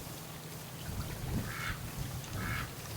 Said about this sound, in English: the ducks have no interest in going into the barn